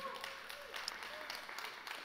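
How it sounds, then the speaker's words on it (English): An audience at a church sermon claps steadily, a soft even patter of many hands heard from a distance. "That's why you clapped"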